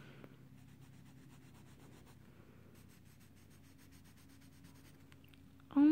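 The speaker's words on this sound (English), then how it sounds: "this is a hard charcoal pencil" A hard charcoal pencil scratches and rubs across paper in quiet, continuous strokes, faint and close, ending with a brief louder knock or handling sound.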